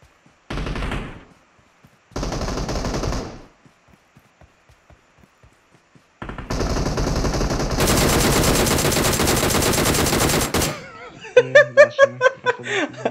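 PUBG Mobile gunfire: two short bursts early, then a long, loud, sustained automatic barrage, followed by a string of sharp individual shots near the end, with quiet gaps in between.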